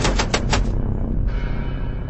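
A Maxim machine gun fires in a rapid, continuous burst of sharp, close reports, and the rattling bursts break off and resume briefly.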